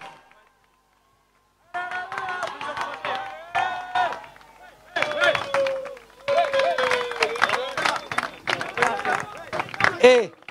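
A crowd applauds and cheers relay runners at a race podium in La Baule, with scattered clapping and whoops behind close talking and voices, the noise rising in bursts after a brief quiet start.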